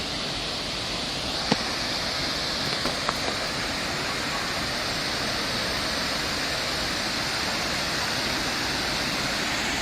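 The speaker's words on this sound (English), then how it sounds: "Here's the river. A little low, but there's a dam over here." River water pouring over a low dam in Madrid, a steady broadband rushing wash that holds evenly throughout, with a couple of faint clicks early on.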